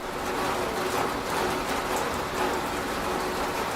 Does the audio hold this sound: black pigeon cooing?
no